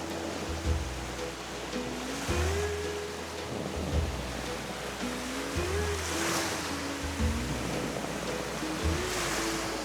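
Ocean surf roars continuously on Corsica, waves washing in with a broad hiss, while a low engine-like hum with rising and falling tones runs underneath.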